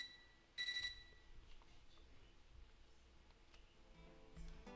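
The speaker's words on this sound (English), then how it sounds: "I woke up to a ringing sound like an alarm clock." A short electronic alarm-clock ring in the video game Fate/Extra CCC sounds once near the start, bright and beeping, then cuts off leaving quiet background ambience.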